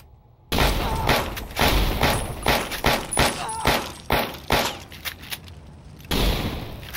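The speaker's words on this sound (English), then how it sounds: "Been some sort of incendiary round." Incendiary round gunfire in Fallout TTW: a rapid string of loud, sharp shots in an uneven rhythm, each with a crackling, glassy tail. The burst breaks off briefly before a final heavy blast.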